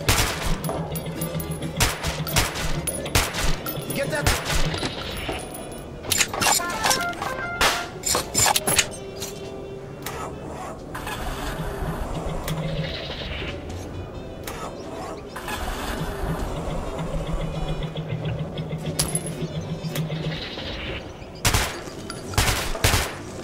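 Rapid bursts of gunfire in a gunslinging video game crackle through the first half, easing into a steadier mechanical din before sharp shots return near the end, with a faint voice underneath.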